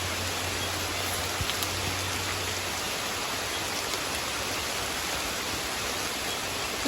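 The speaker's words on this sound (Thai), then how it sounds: "ฝนเริ่มแห้งขึ้นเรื่อยๆจ้ะ" Steady, even rain hisses continuously at close range behind a house during a search for bamboo shoots, a dense wash of falling water with no voices.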